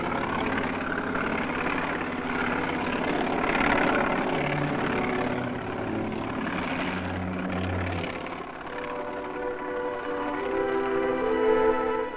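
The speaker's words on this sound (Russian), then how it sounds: "Оперативные переброски производились на вертолетах." A helicopter flies continuously through the whole stretch, its steady rotor thrum and engine drone loud and fairly close, carrying out operational transfers at the Novaya Zemlya test site.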